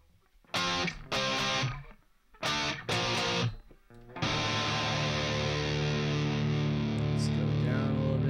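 An electric guitar runs through a distortion effect in a home recording studio. Two short pairs of gritty chords ring out with gaps between them, followed by a long, loud chord that sustains alone.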